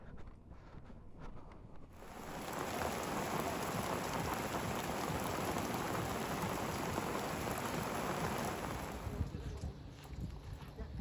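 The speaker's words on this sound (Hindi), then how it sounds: "यहाँ पे होने लगी है बारिश" Heavy rain pours down steadily along a storm-hit motorcycle route in Kyrgyzstan, a dense broadband hiss that swells loud after about two seconds and holds near and continuous, with some wind buffeting the microphone.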